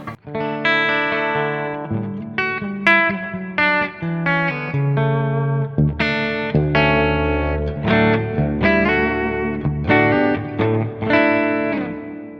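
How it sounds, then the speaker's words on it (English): Clean-toned electric guitar with a touch of reverb, played as a continuous phrase of chords and single notes that ring out steadily and fairly loudly. "A little bit of reverb."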